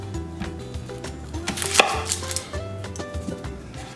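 A knife cutting an onion into quarters on a board for a pork roast, several crisp irregular chopping knocks heard close and clear, with no talking.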